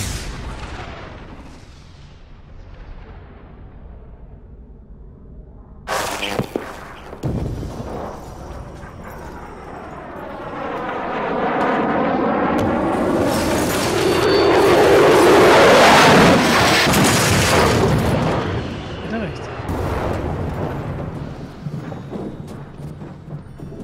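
An airplane crashes in the survival video game The Forest: a low rumble swells into a long, loud, roaring broadband blast with sweeping tones, then slowly dies away into a noisy rumble. No speech.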